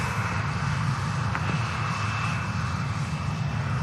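A large airliner, likely a jet touching down at Manchester Airport, gives a steady broadband roar with constant low rumble and a faint high whine, fairly loud and continuous with no talk.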